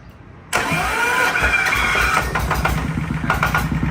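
A Kubota ZT180 18-horsepower diesel engine cranks on its electric starter and catches abruptly, then settles into a loud, close, steady chugging idle with no talking.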